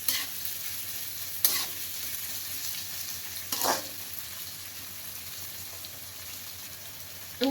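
Chopped onions softly sizzling in oil in a pan for Indori poha, a steady close frying hiss broken by a few scraping stirs of a spoon against the metal.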